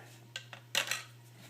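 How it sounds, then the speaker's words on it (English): A utensil clinks and scrapes against a container while bacon grease is stirred into a raccoon trapping bait mixture, a few light taps followed by a brighter scraping burst, over a steady low hum. "So I put the bacon grease right into my mixture here and give it another quick little stir"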